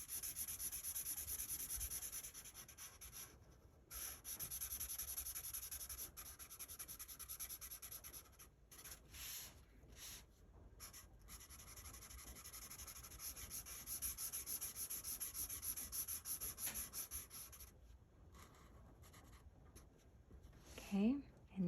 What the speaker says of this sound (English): So I'm going to trace that shape.